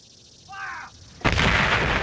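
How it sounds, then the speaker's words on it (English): A sudden, loud Civil War artillery cannon blast from Union guns at Gettysburg breaks in and rumbles on to the end, following a quieter stretch with a brief high, bird-like tone. "the Union artillery on Cemetery Ridge and Little Round Top opened fire"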